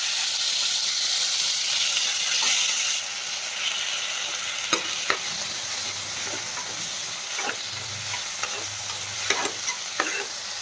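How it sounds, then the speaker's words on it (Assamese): Chopped tomatoes dropped into hot oil, a loud hissing sizzle at first that settles into softer frying with occasional sharp stirring knocks and scrapes. "এতিয়া কাটি থোৱা বিলাহীখিনি ইয়াত দি দিম।"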